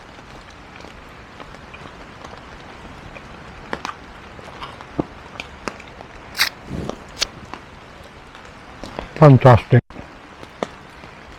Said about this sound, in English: Rain's back on, as you can hear.